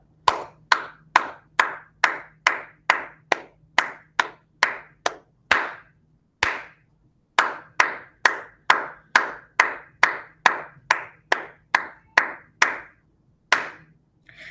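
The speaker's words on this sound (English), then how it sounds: "Let's put it in our brain and just clap it." A kindergarten class claps out the rhythm of the nursery rhyme Lucy Locket, crisp distinct claps in a steady patterned beat, grouped into two phrases separated by a short pause, close and clear against silence.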